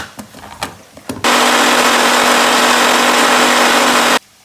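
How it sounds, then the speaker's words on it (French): A kitchen food processor, or robot, grinds ingredients into a purée for Indian-style fried chicken fritters in sauce, running loud and steady for about three seconds before cutting off abruptly, preceded by a few light clicks and knocks. "je vais passer ça dans un robot"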